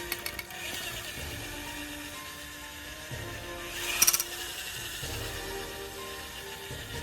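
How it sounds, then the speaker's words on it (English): A variable speed power drill whirs steadily as it drives a scrubbing brush inside a home-brewing carboy, a continuous mechanical ratcheting hum with a brief louder clatter near the middle. "A variable speed drill"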